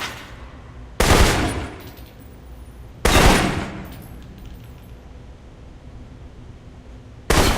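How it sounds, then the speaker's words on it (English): Three sharp, loud assault rifle shots ring out in Alpha Protocol, spaced about two seconds apart apart at first and then longer, each with a short ringing decay into a quiet room tone. "For long-range encounters, the assault rifle's the key. It's accurate, powerful."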